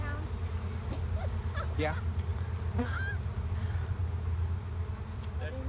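Honeybees hum and buzz around hive boxes on a farm ranch homestead, a steady low drone close by with brief voices and a few short honks and chirps over it.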